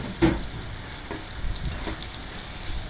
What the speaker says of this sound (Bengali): নেড়ে চেড়ে ভেজে নিব।